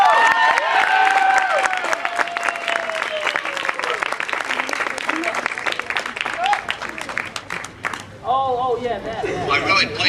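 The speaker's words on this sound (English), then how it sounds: "President Heffner, if you give him a round of applause." A large crowd at a 2007 Step It Up rally claps and cheers loudly and continuously as a university president is called to the podium, with the applause tapering off near the end.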